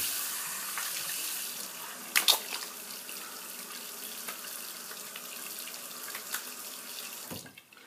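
Water runs steadily from a sink tap while a face is wetted for shaving, a continuous close splashing hiss broken by a few louder splashes, ending as the flow stops.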